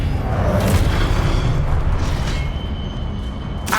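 Spell effect of Expelliarmus cast in Hogwarts Legacy, a dense rumbling whoosh with bright bursts near the start and end, sustained and fairly loud with no talk.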